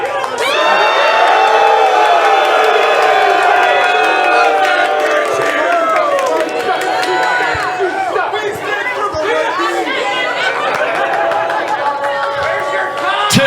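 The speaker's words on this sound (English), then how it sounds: "Now cheer your champ!" A wrestling audience cheers for its champion as he enters the ring at a prison-break themed event, a loud, continuous roar of shouts, whoops and chatter filling the whole stretch with no pause.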